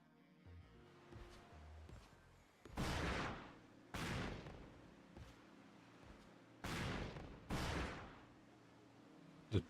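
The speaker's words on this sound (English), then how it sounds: "Just doing target practice with the cannons." Ship cannons fire in the pirate naval game Skull and Bones, about five heavy booming blasts spaced a second or two apart, each with a decaying rumble, loud against quiet in-game background.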